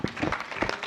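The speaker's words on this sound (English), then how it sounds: "Can we please applaud her?" Conference audience applauding a speaker, a brief, uneven spatter of scattered hand claps in a large hall, moderately loud and somewhat distant.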